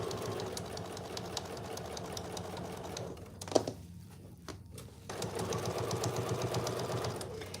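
A sewing machine runs a seam on an oven mitt with a fast, even mechanical chatter that pauses briefly in the middle, with a few handling clicks, then picks up again.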